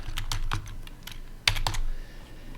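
Computer keyboard keys clack in short irregular bursts as a song title is typed, crisp and close with small pauses between keystrokes, no voices.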